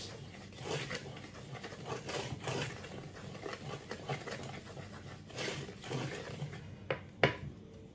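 Vanilla sugar and plain sugar are mixed with butter in a bowl, giving faint, steady scraping and rustling strokes that repeat irregularly, with a couple of sharper clinks near the end.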